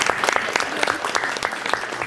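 Audience clapping at a general body meeting, a dense, steady burst of many hands filling the room for about two seconds with no talk over it.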